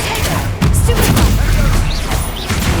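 A Stupefy stunning spell cast during Hogwarts Legacy combat, heard as loud booming impacts and crashes over dense game noise, with a sharp onset early on and a voice calling out.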